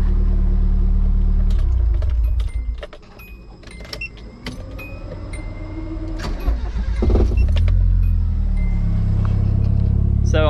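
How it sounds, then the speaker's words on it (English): A Nissan CA18DET engine fires up and settles into a loud, continuous idle up close, rumbling low throughout with some clicks and rattles along the way. "wouldn't you know, my car fired right up"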